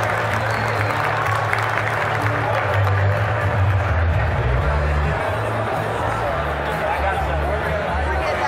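Banquet crowd at a conservation chapter dinner applauding a sponsor, sustained dense clapping with chatter and crowd murmur underneath, steady throughout.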